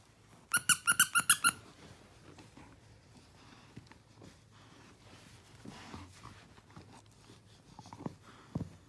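A squeaky dog toy bought in a supermarket squeaks in a quick burst of five or six sharp, regular squeaks near the start, then gives way to quiet rustling and faint shuffling.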